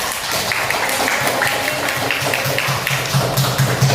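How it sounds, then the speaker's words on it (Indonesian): An Indonesian primary school class applauds a student group with a steady, close wash of many claps, and rhythmic taps near the end hint at the clapping falling into unison. "Ya, tepuk tangan untuk kelompok 1."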